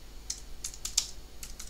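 Keys clack on a computer keyboard as a WordPress post title is typed, giving a handful of quick, close, light taps in an irregular rhythm over a faint hum.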